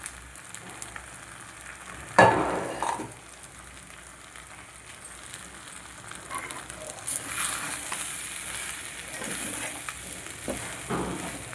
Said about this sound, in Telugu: మళ్ళీ ఒకసారి కలుపుకోవాలండి.